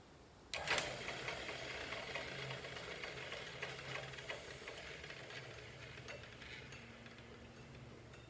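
A drill press fitted with a new motor starts up and spins steadily, a continuous close mechanical whir with a faint rhythmic ticking and slight wobble throughout.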